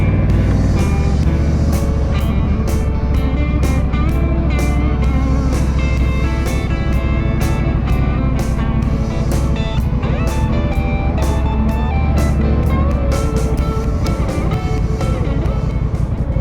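A Honda Rebel 1100 motorcycle rides through Nashville streets, its loud steady engine rumble mixed with heavy wind noise and rhythmic pulsing throughout.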